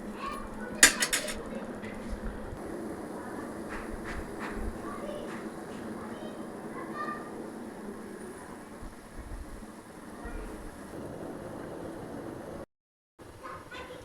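Eggplants soften in a pan while a utensil scrapes and clinks against the metal now and then, with a low steady cooking hiss underneath and a voice talking faintly in the background.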